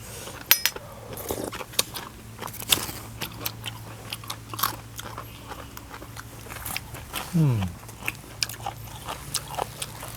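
Crunchy food bitten and chewed close to the microphone, a mouthful of Isan laab and spicy papaya salad, with scattered crisp crunches, light clinks of cutlery and occasional quiet talk.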